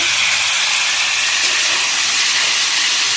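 Water hits a hot pan while a country koi fish curry with elephant foot yam cooks, giving a loud, steady, close hiss of steam and sizzle that holds for the whole stretch.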